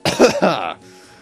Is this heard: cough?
yes